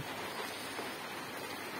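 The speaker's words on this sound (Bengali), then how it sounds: "পরিবেশটা খুবই সুন্দর, টিপটিপ বৃষ্টি।" Light drizzling rain falls outdoors in Atgharia, Pabna, a soft even patter of fine drops with no other sounds.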